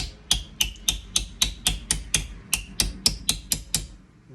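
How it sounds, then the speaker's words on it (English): A hammer strikes a copper spoon in a steady run of about fourteen sharp, ringing metallic blows, evenly spaced and close, with no talk. "A little bit of work with the hammer."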